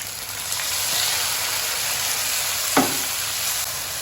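Tomatoes sizzle and fry in hot oil in a pan alongside chillies for bhindi gosht, with a steady loud hiss and a brief scrape of stirring near the end; no talking.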